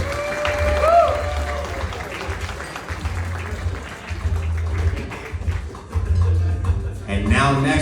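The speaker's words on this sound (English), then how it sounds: "Round of applause for Scott." Guests at a wedding reception keep applauding after a toast, a steady wash of clapping mixed with crowd chatter. A brief whistle rises near the start, and the applause surges louder toward the end.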